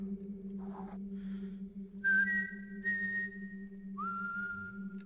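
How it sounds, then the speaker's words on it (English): A character in a Thief fan mission video game whistles a few sustained tonal notes, fairly clear over a steady low background hum, with soft ambient game sounds between them. "He's still whistling about it."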